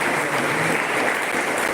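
A church congregation applauds in praise of the Lord, a loud, dense, steady wash of many hands clapping together, filling the space without a break and with no voices standing out.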